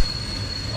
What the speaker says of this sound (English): I think the tram's just gone everywhere.